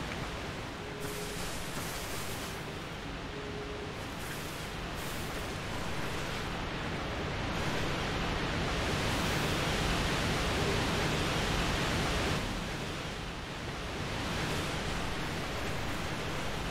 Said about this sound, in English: that water's loud as fuck